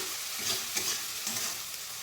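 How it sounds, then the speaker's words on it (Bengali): Spice paste for Kolkata-style doi pabda frying in oil while being stirred, a close steady sizzle with soft scraping strokes of the spoon repeating every half second or so, no voices. "এইভাবে কন্টিনিউ নাড়তে থাকবো যতক্ষণ না মশলা থেকে তেল ছেড়ে দেয়"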